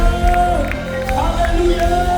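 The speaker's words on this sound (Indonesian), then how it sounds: "Mari sorak-sorai buat Indonesia." A worship celebration crowd in Surabaya, Indonesia cheers and shouts in a loud, dense wash, with sustained voices and whoops overlapping throughout.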